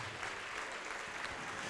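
A church congregation applauds in a faint, distant wash of claps that stays steady and continuous for under two seconds.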